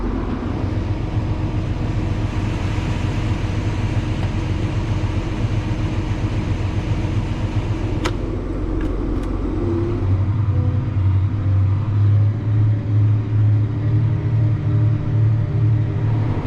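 A semi truck loaded with about 30,000 pounds on a soybean farm drives with a deep, continuous engine drone and road rumble, the pitch shifting lower partway through as the engine note changes.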